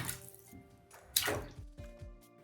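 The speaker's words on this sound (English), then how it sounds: "I filled up my bathtub a little bit and slapped the water." A hand slaps shallow water in a partly filled bathtub, giving one sharp splash followed by smaller drips and sloshing settling down, close and fairly quiet.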